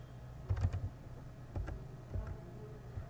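Several faint keystrokes on a computer keyboard while entering entries in salon billing software: a small cluster of quick clicks, then two isolated taps, quiet and close with nothing else around.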